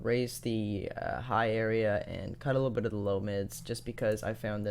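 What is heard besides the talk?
No everyday noise stands out behind the speech.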